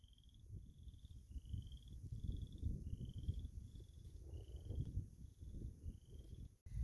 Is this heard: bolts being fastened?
no